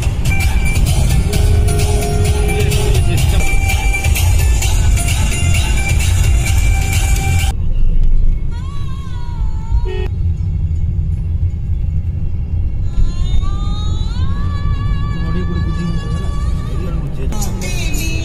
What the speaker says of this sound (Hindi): 100 के स्पीड से गाड़ी जा रही है, कुछ फर्क नहीं पड़ रहा है